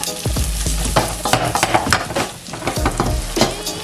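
Onions sizzle and fry in a pan with a bay leaf, with scraping stir strokes and crackling bursts continuing steadily and close up, no voices.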